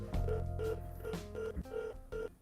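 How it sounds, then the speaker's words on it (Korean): A telephone call being placed: a series of short repeated dialing tones in a steady rhythm, faint and close, with no voices. "제가 이제 전화 한번 걸어보겠습니다"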